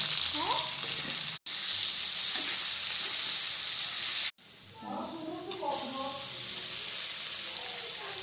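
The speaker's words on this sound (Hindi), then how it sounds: "तेल गरम है प्याज देदबा" Onion dropped into hot oil, a loud bright sizzle that cuts out briefly twice and then settles into a softer steady fry, with a voice speaking faintly underneath.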